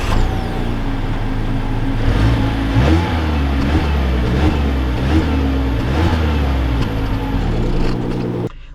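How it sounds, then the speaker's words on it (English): A 2021 Mazda 6 GTR Turbo car pulling away, its engine rising and shifting in pitch through the gears, loud and steady throughout with no talk. "let's take this Mazda 6 out and see how she drives"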